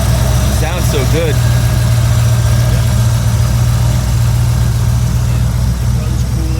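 A 1986 Camaro IROC-Z with a fuel-injected 383 stroker V8 and six-speed cruises at highway speed just above idle, a steady low engine drone running evenly throughout with faint road noise.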